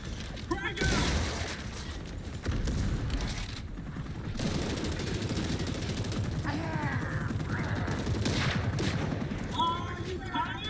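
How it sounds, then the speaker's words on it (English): Frag grenade toss followed by bursts of gunfire and booms in the Gears video game, with shouting voices mixed over the loud combat at several points. "Frag out!"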